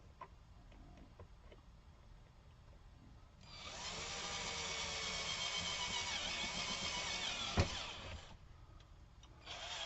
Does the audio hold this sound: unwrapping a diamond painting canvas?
no